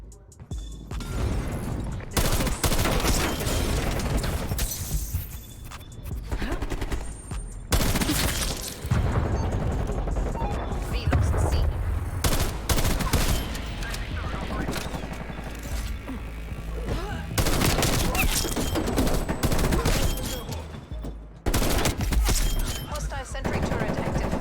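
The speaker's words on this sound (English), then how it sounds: "Hostile sentry turret active." Sentry turret gunfire in Call of Duty Cold War multiplayer, sustained rapid bursts mixed with explosions and other weapons in a loud, dense match, with voices talking over the action.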